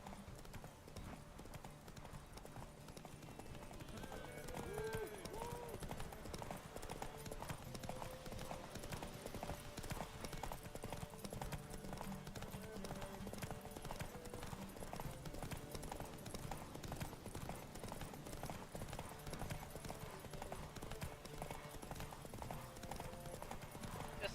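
Roach, the horse in The Witcher 3, gallops steadily, a continuous run of rapid hoofbeats over ambient game music and soundscape, without pause through the whole ride.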